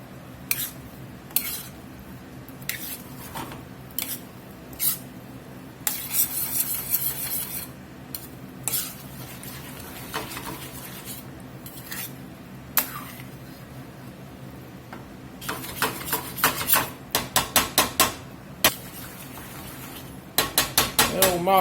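Bacon stirred back into a creamy maque choux in a pan, a Louisiana side dish, with a low steady sizzle under repeated clanks and scrapes of a spoon against the pan, some bursts of rapid stirring.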